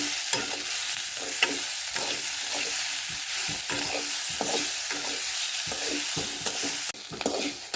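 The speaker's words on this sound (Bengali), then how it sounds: "পেঁয়াজটা ভাইজা নিচ্ছি" Onions fry in a pan with a continuous sizzle and a run of repeated scraping stir strokes close by, and no voices.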